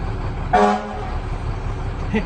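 A fire truck air horn gives a short, loud blast with strong harmonic bands once over steady background rumble, followed by a fainter brief toot.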